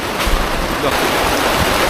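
Strong typhoon wind roars into the microphone in a loud, continuous buffeting rush, with a faint surf-like wash underneath.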